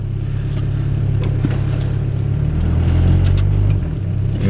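A snowed-in 1991 Chevy S10 with a 2.5 engine and 332K original miles sits in drive with its wheels slipping in snow. The engine drones low and steady, swelling slightly as the tires spin, with no voices.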